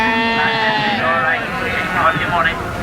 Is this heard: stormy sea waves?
no